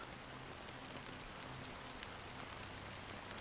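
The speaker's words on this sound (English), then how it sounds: "Amidst the fine drizzle of black rain" Fine drizzle of black rain in the video game Honkai Star Rail, a faint, steady, even hiss of rainfall that continues without a break and with no voices.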